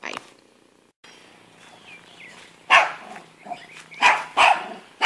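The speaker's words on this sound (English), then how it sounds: "If Daisy would stop barking long enough, I could hear Lulu" A dog barks close by in a home, several loud sharp barks in quick succession after a quieter stretch with faint background sound.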